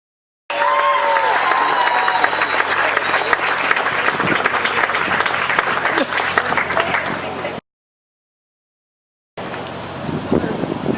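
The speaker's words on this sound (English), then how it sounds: "Give her a big round of applause." Loud, sustained audience applause with dense clapping from a large crowd, breaking off briefly, then resuming.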